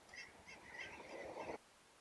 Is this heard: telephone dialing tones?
no